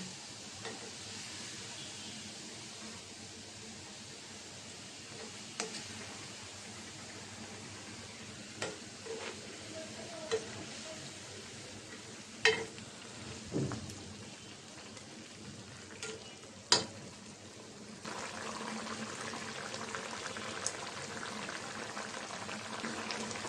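Fried fish simmering in gravy with tomato and vegetables in a pan, a soft steady bubbling and sizzle throughout with occasional clinks and scrapes of a spoon, growing a little louder near the end, no talking.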